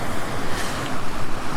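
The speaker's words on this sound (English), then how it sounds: "water that cascades under the bridge" River water cascades under a stone road bridge at Postbridge on Dartmoor, a loud continuous rushing roar with wind buffeting the microphone.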